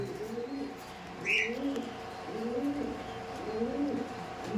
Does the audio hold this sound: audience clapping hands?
no